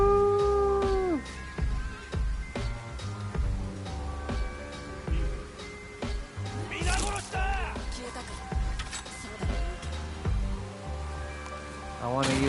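A wolf howls in the Ghost of Yotei game, long wavering cries rising and falling over busy in-game effects and music, with a person talking throughout.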